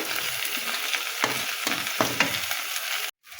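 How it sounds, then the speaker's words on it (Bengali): Onions and cumin fry together in a pan for a tengra fish and potato dish, a constant crackling sizzle with a few scraping stirs, close, cutting out abruptly near the end. "এবার পেঁয়াজও দিয়ে দিলাম সব একসঙ্গে ভাজি করব"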